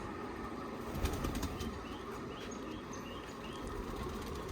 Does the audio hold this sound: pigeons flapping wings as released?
yes